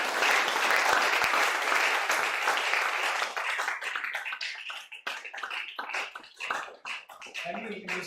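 A large audience at an entrepreneurs' gathering in Ilorin, Kwara State applauds, dense sustained clapping close and loud, gradually thinning into scattered individual claps toward the end, with a voice entering faintly at the close.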